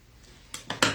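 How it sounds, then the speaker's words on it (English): Scissors trim the fabric edges around wedding gown boning, giving three quick, close snips in rapid succession after a brief quiet moment. "just clean up the edges by trimming that"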